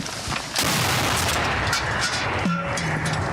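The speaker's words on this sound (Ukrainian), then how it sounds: "Постріл!" A single heavy howitzer blast booms out at the front line, followed by a rumbling roar that lingers and fades across the rest of the moment.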